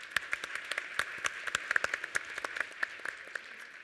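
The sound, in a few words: audience applause for panelists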